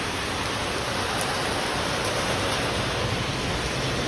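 Steady, dense rain falls on a street during a vendor's vada pav stand rainy evening, a constant close hiss of drops with no voices.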